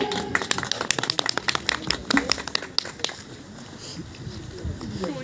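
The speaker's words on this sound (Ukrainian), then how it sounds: "Давайте підтримаємо оплесками." An audience at a prize drawing claps briefly, scattered overlapping claps that fade out after a few seconds into quieter room noise.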